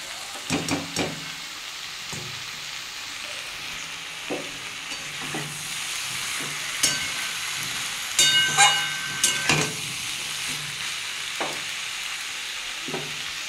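Malabar spinach stalks stirred and frying in a pan, with a steady low sizzle and repeated scraping, clattering stirs that come in short bursts, loudest in a cluster near the middle.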